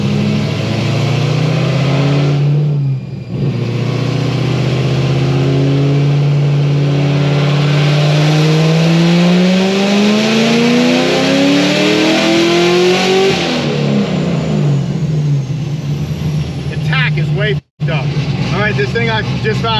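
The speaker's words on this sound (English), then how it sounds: "I'm just gonna rev it out a little further" A Corvette ZR1 on a dyno, tuned past 1000 horsepower, revs out in a long, loud pull: the engine note climbs steadily for several seconds, drops back, then rises again, with brief cuts between pulls.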